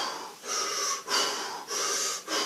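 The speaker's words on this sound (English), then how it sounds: "A lot of people end up panting." A person demonstrates panting over-breathing: four quick, heavy, rhythmic breaths close to the microphone, each a loud airy rush separated by short gaps.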